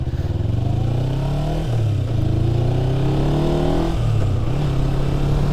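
Motorcycle engine accelerating on the move, revs climbing and dropping through gear shifts, loud and close over steady wind rumble with no voices.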